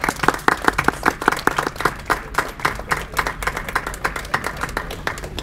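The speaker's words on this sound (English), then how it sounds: "how about another round of applause for these ladies?" Board of education meeting attendees clap for a group of women, a loose, moderately sized round of individual hand claps with distinct sharp slaps, steady throughout and nearby.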